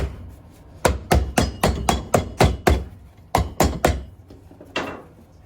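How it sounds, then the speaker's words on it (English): A cork-and-latex Birkenstock Boston sole being tapped with a hammer on a shoe last during a resole: about a dozen sharp, close knocks in a quick steady rhythm, a short pause, then three more and a final blow, with no talking. "Pop it on the last and we'll just give it a bit of a tap through the middle here."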